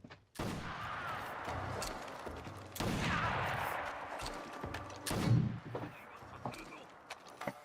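Gunfire in the video game Fight School Simulator, with repeated loud shots and bursts over a dense, busy game soundscape across the whole stretch, sharper blasts standing out near the middle and later.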